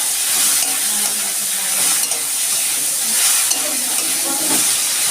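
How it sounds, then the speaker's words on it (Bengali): Prawns, rubbed with salt and turmeric, fry in mustard oil in a wok, giving a steady close sizzle with faint stirring scrapes throughout. "আমি চিংড়ি মাছটা প্রথমে একটু ভেজে নিচ্ছি।"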